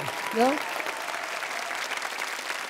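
An audience at an inspirational talk applauds steadily, a dense, even wash of clapping that carries through the whole stretch, with a brief voice at the very start.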